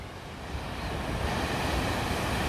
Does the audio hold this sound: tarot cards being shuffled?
no